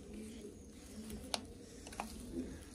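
Young racing pigeons in London coo softly in a loft, low murmuring calls repeating faintly over a quiet background, with a couple of brief clicks or flutters nearby.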